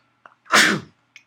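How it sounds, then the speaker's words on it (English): A single loud sneeze close to the microphone, with a short sharp intake before it and a faint breath after, in an otherwise quiet room. "I just had to sneeze."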